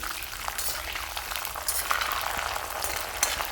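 Curry leaves sautéing in a pan while rasam is being made produce a dense, continuous bubbling sizzle with a soft, low rumble underneath and no voices.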